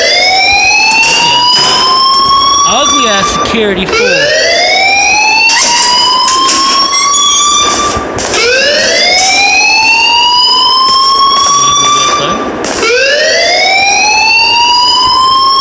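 Loud, continuous school alarm in the Life is Strange video game, its rising electronic wail repeating every few seconds with no break, a brief voice heard once over it.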